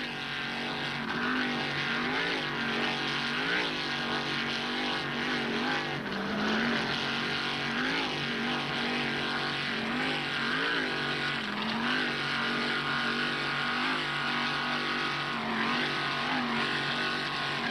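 Offshore racing powerboat, a 26-foot Wellcraft running on a single 640-horsepower Mercury engine, roars steadily and loudly around a Key West championship course, its engine note wavering and rising as it screams along without a break.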